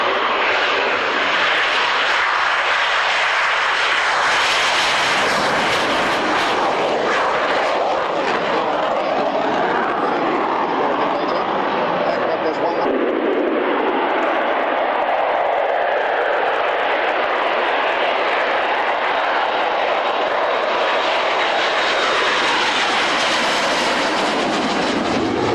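Saab Draken jet fighter performing at the Fairford Air Tattoo, a loud, harsh jet roar that swells and sweeps past, fading slightly mid-pass then building again as it continues overhead.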